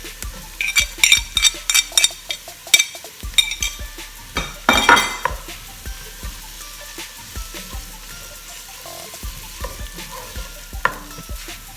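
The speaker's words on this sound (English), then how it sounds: "I'm just going to add in my tomato paste that's been sitting there." Tomato paste stirred into a hot pan for a quick pasta sauce, a close steady sizzle under repeated sharp scraping and clinking of a utensil against the pan, busiest in the first few seconds and then settling into occasional taps.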